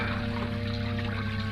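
Water trickles and splashes steadily into the stone basin of a garden fountain in a radio drama scene, a continuous close wash of liquid noise with no one speaking over it.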